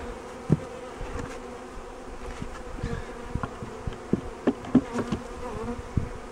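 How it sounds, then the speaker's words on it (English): Honey bees buzz around an open hive during installation of a bee package, a continuous close drone with passing individual bees and a few soft knocks and bumps. "Still got some bees in here, but they'll find their way out and crawl into the cage or into the hive."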